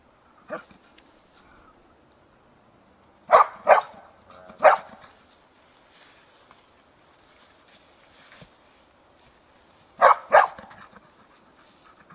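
A dog at work in Montebello Estense gives a handful of sharp, loud barks, one single, then a close pair, another, and a later pair, separated by quiet gaps with faint background rustle.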